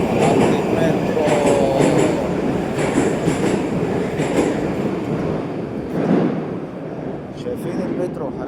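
A Moscow metro train sounds in an underground station: a loud, steady rumble of cars rolling along the rails with faint wheel squeal and clatter, swelling and easing slightly over several seconds, with voices faintly underneath.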